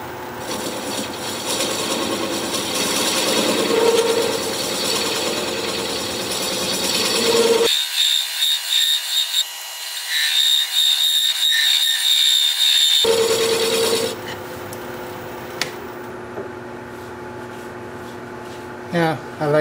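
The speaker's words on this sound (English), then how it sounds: "I could just open the mouth up a little bit more with a chisel." A chisel cuts into the mouth of a red cedar vase spinning on a wood lathe, giving a steady scraping, rasping drone under the hum of the machine, with a break in the middle and a voice speaking.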